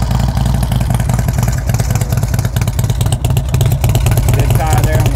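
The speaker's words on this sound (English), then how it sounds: "Real nice sound with the true duals and Reinhardts." A Harley-Davidson Screamin' Eagle Road King with Rinehart true dual exhaust runs steadily close by, its loud, low, lumpy V-twin pulse continuous throughout.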